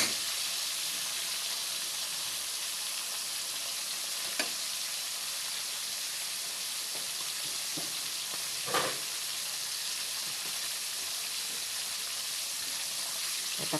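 Pork with butter and garlic sizzles steadily in a pan, a soft continuous frying hiss with a couple of faint clinks, no talking.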